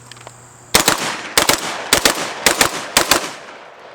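A VR80 shotgun fires ten rounds in five rapid double taps, loud and sharp, each pair of blasts spaced about half a second apart, with short echoes trailing after each.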